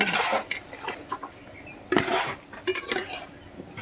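Fried elephant foot yam being lifted out of a pan for a Bengali kofta curry, heard as scattered metallic scrapes and clinks of a utensil against the pan, with a soft sizzle underneath.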